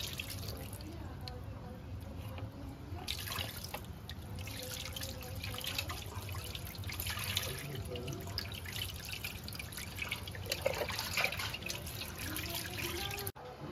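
Goat legs are rinsed under running water at a tap, a faint, steady trickle and splash with intermittent drips and handling noises, close by and continuous.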